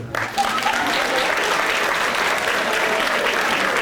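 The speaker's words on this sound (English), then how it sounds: "let's give a warm round of applause to Alua Aropo." A crowd at a school district event applauds steadily, the clapping dense and sustained from start to finish.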